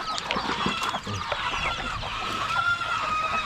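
Native chickens, including hens with a newly hatched brood, cluck and chatter continuously up close while being fed, a busy overlapping flock sound with faint background noise.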